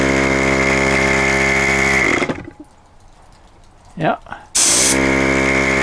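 An electric pump powered from a portable power station's XT60 port drones loudly and steadily with a strong hum, cuts out abruptly into near silence with a brief voice, then starts again at full loudness.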